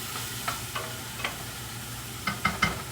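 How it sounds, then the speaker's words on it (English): Onions cook in a pot with a soft, steady sizzle, broken by a few light scrapes and stirs close by; no one speaks. "We're going to cook these onions until they're translucent."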